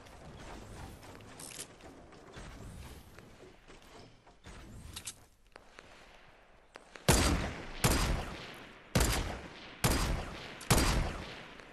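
Bolt action rifle gunfire in Fortnite: muffled game noise first, then five loud sharp shots spaced about a second apart, each followed by a short bolt-cycling clatter and decay.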